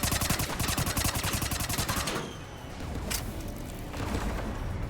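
Rapid bursts of incendiary-round gunfire in the shooter Mass Effect 3, a dense rattling volley for about two seconds, then a lull with scattered lighter shots and a renewed burst near the end.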